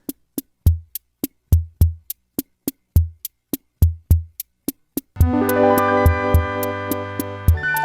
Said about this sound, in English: And finally, there's a rhythm section that has its own retro charm to it.